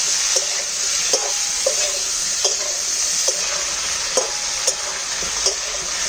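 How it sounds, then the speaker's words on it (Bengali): Food fries in a pan with salt and turmeric: a steady, bright sizzle runs throughout, broken by regular, close scraping taps of a spatula stirring roughly every half second. "এবার ভাজাটার মধ্যে দিয়ে দেবো অল্প করে লবণ আর অল্প করে হলুদ দিয়ে এবার ভেজে নেবো"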